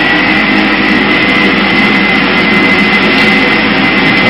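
Jet engine roar from a Boeing 737-800 flight simulator during the takeoff roll, a loud, steady, broadband rush with a faint high whine held constant throughout, no voices.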